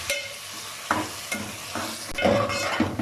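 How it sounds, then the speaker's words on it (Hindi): Ginger garlic paste and green chilies frying in a pot for beef yakhni pulao, with a steady sizzle, broken by scraping stirs of a spoon every second or so, close and fairly loud. "पेस्ट और हरी मिर्ची शामिल करेंगे और अदरक लहसुन की खुशबू आने तक इसे भूनेंगे"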